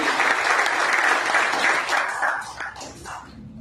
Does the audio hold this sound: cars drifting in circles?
no